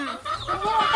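An auctioned hen gives a short, loud, close burst of rising clucks, alone with no voices.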